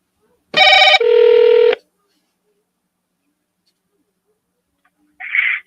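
A telephone gives a short dial tone burst followed by a single long electronic ringback tone, loud and clear, then silence and a brief faint tone at the end.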